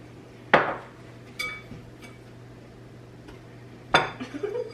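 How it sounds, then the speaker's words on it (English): Christmas baking mixture stirred in a bowl, heard as a couple of sharp clinks of utensil against the bowl with faint scraping between, close by in a quiet room. "Stir it."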